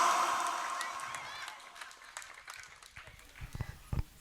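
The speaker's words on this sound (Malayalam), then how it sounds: "എല്ലാവരും നല്ല കൈയടി കൊടുക്കൂ." An audience at an Onam program applauds, with a burst of clapping that fades away over a couple of seconds into scattered claps and light shuffling.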